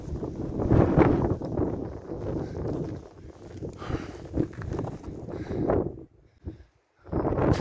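Strong wind buffets a mountain ridge on the GR 367 hiking trail. It roars and gusts steadily against the microphone, briefly dropping away before surging back.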